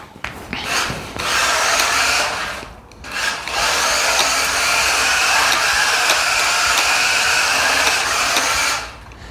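Small electric RC drift car in low power mode on grippy indoor carpet, its motor giving a steady buzzing whine with tyre rub that cuts out briefly around the middle, then runs on continuously before stopping near the end.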